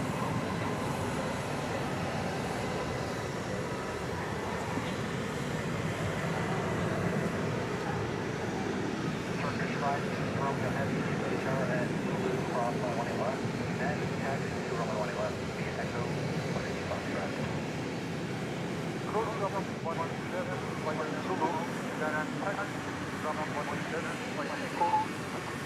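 An Airbus A321 jet landing at DFW Airport at night makes a steady, continuous engine roar and rumble that holds for the whole stretch, with faint voices over it.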